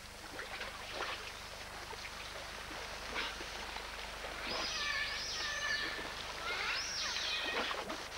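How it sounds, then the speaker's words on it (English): Rain falls across land and a river in a wet tropical habitat, a steady, moderately loud hiss with patter throughout and birds calling and chirping over it in the second half. "the rains refresh the land and replenish the river"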